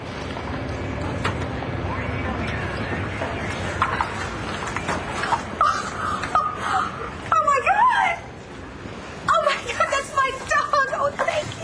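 A small dog whimpers and yips in short high cries, mostly in the later part, amid people talking and background noise.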